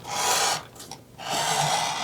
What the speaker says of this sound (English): So now that we beveled our edge